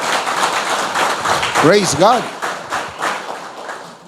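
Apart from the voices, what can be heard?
congregation clapping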